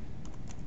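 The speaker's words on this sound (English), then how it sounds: "So if I was to type in sample and then click search" Brief burst of computer keyboard typing as a word is entered into a search box, a few quick close key taps over a steady background hiss.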